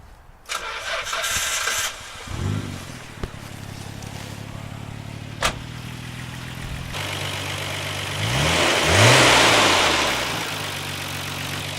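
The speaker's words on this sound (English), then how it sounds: "hear the engine purring" A Nissan Skyline GT-R R33 V-Spec with 96,000 kilometres on its engine cranks and fires up, settles into a steady idle, then revs up and back down near the end, loud and close.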